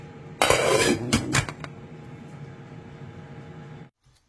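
A metal lid set onto a cooking pot of salmon and okra, a loud clattering rattle of metal on metal lasting about a second, then a low steady hiss.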